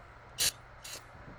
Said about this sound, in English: With a quick little spray, wipe it down.